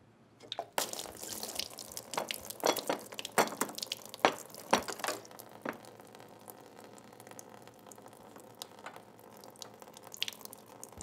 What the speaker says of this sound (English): a lot of water is going to come out